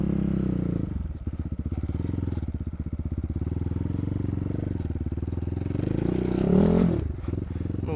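Enduro motorcycle on a dirt track, its engine a steady close throbbing drone with a fast pulsing beat, briefly revving louder near the end.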